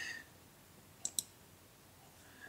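Two quick, sharp mouse clicks close together in a quiet room, followed by a faint softer tick, with no talk, as a word is selected in SpinnerChief text-spinning software on a computer.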